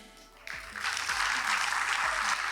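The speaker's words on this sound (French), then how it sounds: "Est-ce qu'on peut applaudir pour elle?" Audience applause at a French-language speech event, rising suddenly after a brief lull and settling into a steady, dense patter of many hands that continues to the end.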